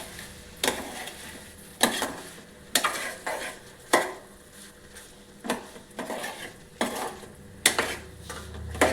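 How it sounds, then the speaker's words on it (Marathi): Okra stir-fry cooking in a pan on a gas stove over a low flame, a soft low sizzle broken by regular stirring scrapes and clinks of a utensil against the pan. "ही भेंडीची भाजी मी गॅसवर मंद आचेवर शिजवून घेत आहे।"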